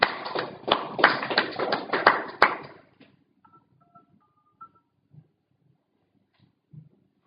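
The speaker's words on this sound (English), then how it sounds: "Let us clap for the Team CampCon 2020 and ISCH HRC." Conference audience clapping for the team, a burst of applause lasting about three seconds before fading into quiet with only scattered faint thumps.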